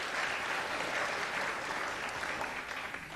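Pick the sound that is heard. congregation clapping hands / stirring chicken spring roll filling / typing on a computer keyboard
congregation clapping hands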